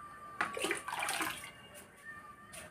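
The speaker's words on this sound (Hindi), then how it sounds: "इसमें डालूंगी पानी" Tap water splashes into a cooking pot in a home kitchen as it is filled for boiling pasta, a short, close pouring rush that tapers off, with no talking.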